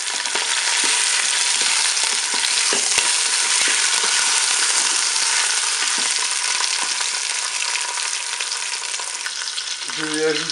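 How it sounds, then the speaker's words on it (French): Pork roast browning in oil inside a preheated Cookeo pot, a loud, steady close sizzle with faint scraping underneath that runs continuously without talk. "Mon préchauffage est terminé, je vais faire dorer mon rôti."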